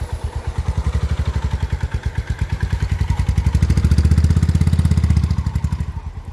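Motorcycle, a CB 350 or Himalayan, pulling in second gear, a loud close single-cylinder thump whose steady beat quickens and swells as it accelerates, then eases off, with no talk.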